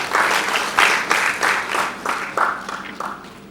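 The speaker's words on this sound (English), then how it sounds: "Clap for yourselves." Workshop participants at an environmental event clap for themselves: a loud crowd applause that swells and fades in quick repeated waves, fairly close and with no talking over it.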